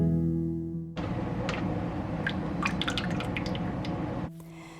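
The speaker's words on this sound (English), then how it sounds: "Once the brown sugar liquid has cooled to room temperature, slowly pour it into your mixture." Cooled brown sugar liquid is poured slowly into batter for a Chinese steamed rice cake, giving a steady wet trickle with small splashes and drips for several seconds, close up and moderately quiet.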